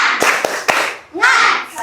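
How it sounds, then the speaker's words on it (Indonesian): A classroom group claps the tepuk semangat rhythm: three sharp, evenly spaced claps, then chanting voices follow. "Yuk, tepuk semangat."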